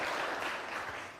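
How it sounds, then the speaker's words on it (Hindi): Applause from an audience at a first-year celebration event, a short continuous patter of many hands clapping that fades slightly toward the end. "जोरदार तालियां होनी चाहिए"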